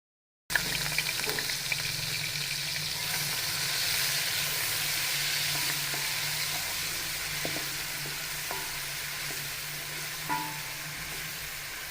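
Onion paste fries in hot ghee over a medium flame for a kadhi pakoda dish, giving a steady loud sizzle and hiss that starts abruptly and keeps up with small pops and stirring clicks, with no talking.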